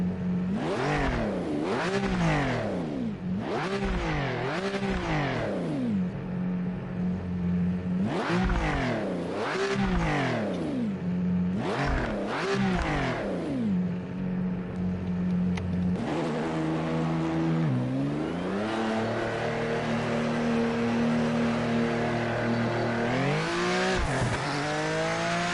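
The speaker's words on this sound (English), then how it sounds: "That should be a V6 engine." V6 front-engine, rear-drive Japanese GT500 race car in a racing video game, revving loudly and repeatedly through rising and falling sweeps, with steady high-pitched engine drone and no talk.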